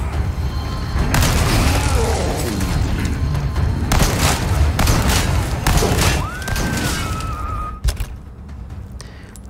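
Gunfire in a Resident Evil 4 Remake fight, with loud repeated booming shots and thuds over a dense, noisy game mix and a rising whistle-like tone near the end; a voice talks through parts of it.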